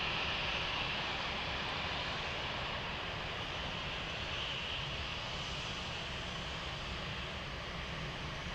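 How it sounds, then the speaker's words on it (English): Lufthansa Cargo plane at Frankfurt airport, heard as a steady, continuous engine roar and broad rushing noise held at an even level throughout, with no talk. "I think we have another plane crossing the bridge."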